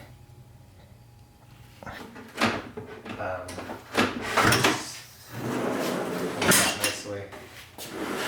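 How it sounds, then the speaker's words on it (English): A dual sliding rear cargo drawer on a sleeper platform built for a Toyota Forerunner glides in and out with several rolling slides and thuds, close by, while someone talks over it. "once the drawer is actually locked down to the Forerunner"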